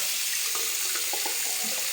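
Cold tap water running into a sink for rinsing, a steady broadband rush with faint splashing, heard alone at moderate level.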